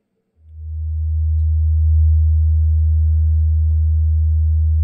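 Steady 80 Hz test tone from a KEF KC62 subwoofer fed through its LFE input, a deep continuous hum that swells in quickly and then holds loud and unchanging.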